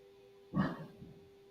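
A single short dog bark sounds at middle distance, with a faint steady electrical hum underneath.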